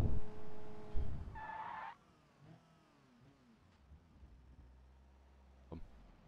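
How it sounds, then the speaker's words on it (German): Car tires skidding with a locked wheel in the BeamNG driving game during a police chase: a loud tonal tire squeal over engine noise early on, then fading to a low rumble with a brief thump near the end. "Mein Reifen ist gerade blockiert."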